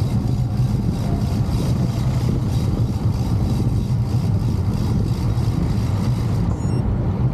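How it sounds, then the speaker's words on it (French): Cars passing on a dry, open road in winter, a continuous steady traffic roar close by with no clear gaps, heard without any talking. "C'est con qu'il y ait des voitures."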